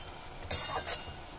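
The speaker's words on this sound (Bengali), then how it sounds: "আলু আর মাশরুমটা আমি ভালো করে কষে নেব, মাঝে মাঝে নাড়াচাড়া করে কষে নিচ্ছি" Potatoes and mushrooms sizzle softly in a pan as a spatula scrapes through them twice in quick strokes over a quiet, low frying hiss.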